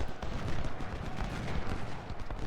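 Rifle volleys crackle continuously in an Ultimate General: Civil War battle as infantry fire on a cannon, a dense, moderately loud stream of overlapping pops and thuds with no pauses.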